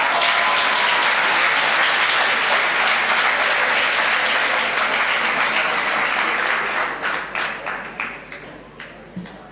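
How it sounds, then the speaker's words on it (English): A crowd at a class of 2019 graduation ceremony bursts into sustained, loud applause that thins out over the last few seconds into scattered individual claps. "A round of applause for Ali"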